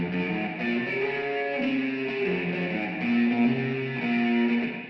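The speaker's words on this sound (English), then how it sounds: "and some more distortion on the reverb itself." Guitar fed through flanger, distortion and heavily distorted reverb, producing a thick, sustained wall of droning notes that shift pitch slowly, with a swirling, roomy wash and steady loudness throughout.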